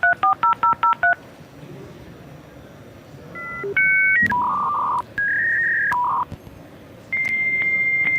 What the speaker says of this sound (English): this was the sound that would have reached us when we were accessing the internet.